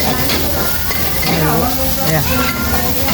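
River fish frying in a pan in a Thai kitchen gives a steady, dense sizzle with some stirring, while people talk nearby over the crackle.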